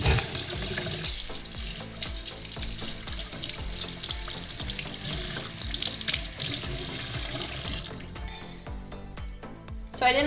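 A makeup sponge rinsed under running tap water in a bathroom sink, a loud steady splashing stream close by that cuts off near the end, no talk over it.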